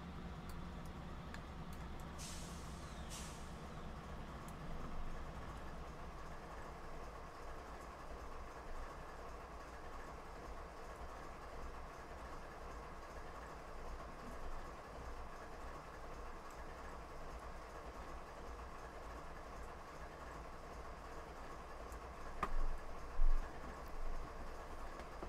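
A Norfolk coal train locomotive idles in the Train Simulator 2017 video game, a faint, steady low rumble that holds throughout with only a few small clanks near the end.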